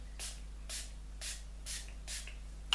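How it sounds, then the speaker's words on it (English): Five short, evenly spaced bursts of a makeup setting spray bottle hiss close by in a quiet room. "Now this I am going to set with a setting spray"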